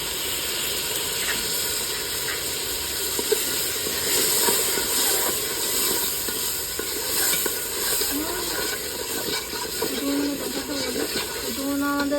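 Steady hiss of steam as water hits mutton kosha in a hot pan, a continuous sizzling wash running the whole time with faint stirring clatter and a few brief tonal squeaks near the end.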